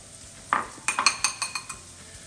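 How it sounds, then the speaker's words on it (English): Eggs are whisked in a bowl for pasta carbonara, a quick run of about eight sharp metallic clinks in a steady rhythm. The sound is close and there is no talk. "Really want to make sure you get a lot of air pumping into these eggs. Make sure they're fluffy."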